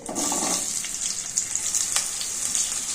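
Oil sizzles steadily in a pan as whole spices like cardamom and cinnamon fry for potato kurma before onions go in: a close, bright frying hiss with a few soft clinks, and no voices.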